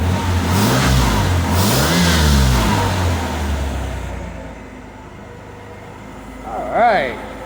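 An engine that has only just been coaxed into starting runs loud and revs up and down through the first half, then drops to a quieter idle before one last brief rev near the end.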